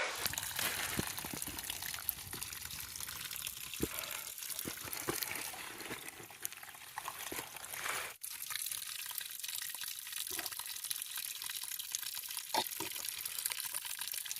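Steady broadband rush of a clean mountain spring's flowing water runs throughout, continuous and fairly close, with small splashy drips now and then, in the Gorgany range of the Carpathians.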